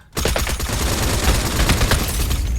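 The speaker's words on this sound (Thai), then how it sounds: "เสียงปืนทางขวาแล้วนะครับ" Rapid bursts of AK gunfire in the video game Badlanders crackle continuously, loud and close, with sharp repeated shots blending into a sustained barrage.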